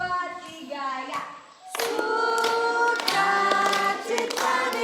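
Children clap their hands in rhythm during a children's church gathering in a village, the sharp claps mixed with singing voices and other sounds.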